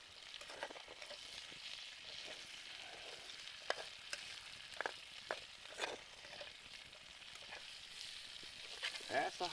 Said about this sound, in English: Look at these green beans, yeah. They're looking good. Everything's frying.